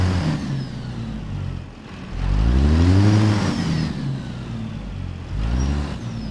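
A Caterpillar C15 truck engine in American Truck Simulator, heard from inside the cab with the windows up, revs up and eases back twice in a muffled, steady drone that has lost its deep bass.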